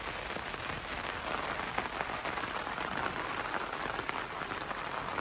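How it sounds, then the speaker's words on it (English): Steady morning rain pattering on surfaces outdoors during a road trip camp stop, a dense continuous hiss of drops with no talking. "It is raining."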